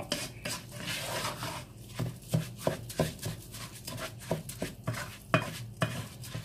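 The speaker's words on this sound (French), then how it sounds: "il faut tourner comme ça au moins pendant une dizaine de minutes sans rajouter de l'eau" A spoon stirring rice in tomato sauce in a pot, with a steady rhythm of scrapes and knocks against the pot that repeat roughly every half second, heard close and alone.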